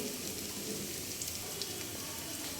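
Chopped onion and garlic fry in hot oil in a Bengali home kitchen, producing a steady, dense sizzle that stays fairly quiet and continuous, with a few faint pops.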